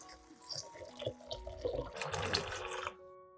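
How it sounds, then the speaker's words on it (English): Water runs and splashes steadily into a large bowl of chili peppers and baking soda, growing fuller and louder before stopping abruptly. "Pour water to cover the chili."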